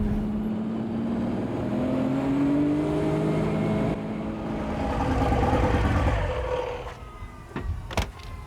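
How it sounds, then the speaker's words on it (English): A Porsche 935 race car engine drones and revs, then lets out a few sharp, loud backfire pops near the end. "you heard all the backfire and all that?"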